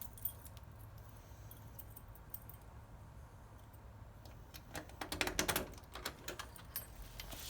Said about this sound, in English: And these keys open up the coin door